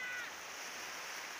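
Waves washing steadily onto a beach, a continuous broadband rush of surf with wind mixed in, fairly close and even in loudness throughout.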